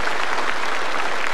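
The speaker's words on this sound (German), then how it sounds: "Ja, wenn Sie klatschen wollen, tun Sie es ruhig." Audience applause at an outdoor broadcast high on the Alp near Pfronten, a steady, dense wash of clapping hands that holds evenly and fairly close for the whole short stretch, with no voices over it.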